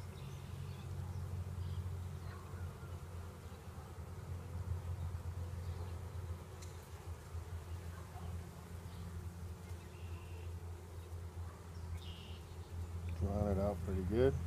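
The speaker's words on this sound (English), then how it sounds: "Put a few bees on there." A steady hum of honey bees crawling over freshly drawn-out comb in a hive from a swarm that couldn't fly, continuous and close throughout, with a brief louder rattling burst near the end.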